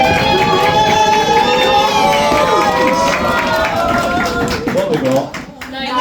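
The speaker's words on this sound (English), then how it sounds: "let's clap our hands," Crowd at a tabletop Dungeons & Dragons event clapping and stamping feet to build atmosphere, a dense continuous rumble of hands and feet with someone speaking over it.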